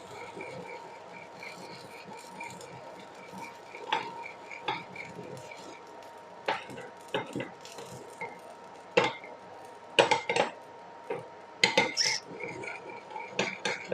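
A utensil stirs chocolate ganache mixed with yogurt in a bowl, giving irregular light clinks and scrapes against the bowl's sides that grow busier and sharper toward the end, close up and with no talking.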